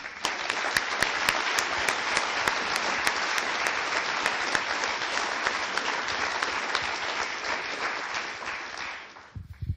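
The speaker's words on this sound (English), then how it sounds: "Can we give a round of applause for them?" Sustained, loud applause from an audience at a hackathon closing event, thanking the volunteers; dense clapping fills almost the whole stretch before stopping abruptly at the end.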